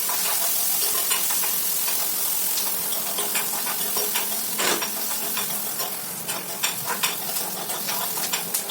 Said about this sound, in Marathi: त्यानंतर मिरची आणि कांदा घातला,